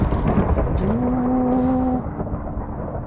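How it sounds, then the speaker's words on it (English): Rumbling thunder from a lightning strike in Minecraft, a steady low roar lasting a few seconds with a brief tonal swell in the middle before fading, heard alone without talk. "But that was lightning, not fireworks."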